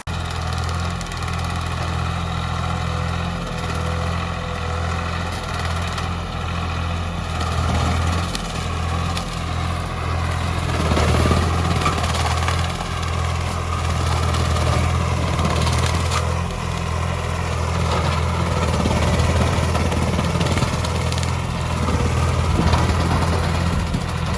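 A Swaraj 744 tractor engine runs steadily, powering an attached banana cutting machine outdoors, with a loud, continuous low drone and a rough mechanical hum that swells slightly midway.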